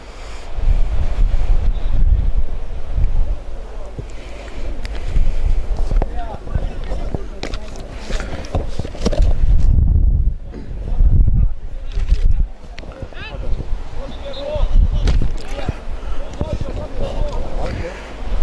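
Strong gusting wind buffets the microphone at an outdoor football pitch in Agios Arsenios during a local amateur match, a loud continuous low rumble with surges, under a commentator's voice.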